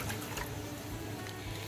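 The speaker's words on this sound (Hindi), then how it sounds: "जेली बनाने के लिए सॉसपैन में मैं 2 कप पानी डालूंगी।" Two cups of water poured into a saucepan for making mango jelly, a soft continuous splashing and trickling that is fairly faint and steady, with no talk.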